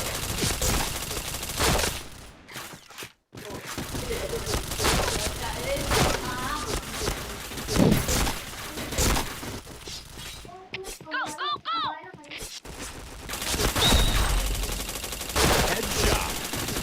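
Rapid gunfire bursts and headshot hits from a shooter video game, dense crackling volleys with brief gaps and game effects, heard under excited player talk.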